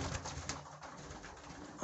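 Pigeons cooing inside a loft on a frosty day, soft throaty coos close by in a continuous murmur, with no voices over them.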